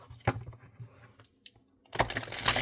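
Oracle cards from the Enchanted Map deck are shuffled by hand, giving soft papery riffles and taps at first, then a louder, denser burst of card flutter near the end.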